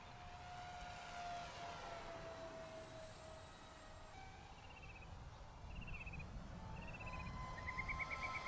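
A ZOHD Drift 877mm RC glider's electric motor drones faintly at three-quarters throttle, a thin, steady whine heard from a distance as the plane flies around, with no talking.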